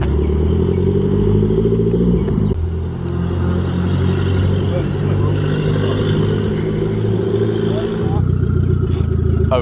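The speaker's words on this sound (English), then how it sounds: "Overboosting still." A Mitsubishi drift car with a straight-off-the-downpipe exhaust and an overboosting turbo running about 1.5 bar, its engine droning and revving loudly and steadily close by throughout, with a brief dip and rise in pitch.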